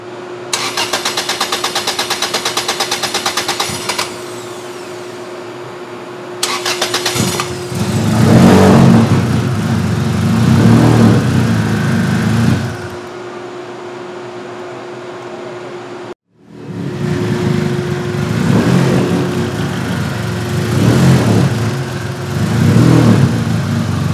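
Rebuilt engine in a Beams-engine car swap cranks, catches and idles, then revs up in repeated loud surges, cuts off briefly and restarts into more rising revs, heard close with no talk.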